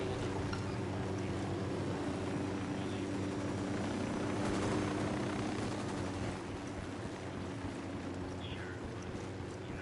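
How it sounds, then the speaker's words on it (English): A steady low whirring drone of helicopter rotors in a video game hums continuously, with broad rushing noise on top and no talking. "Hit the dirt, helicopter"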